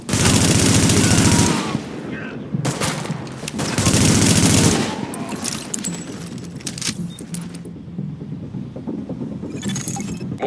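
Rapid automatic gunfire rattles in Tom Clancy's The Division on PC, loud bursts of shots that come in waves and then give way to scattered, quieter shooting, with game sounds mixed in.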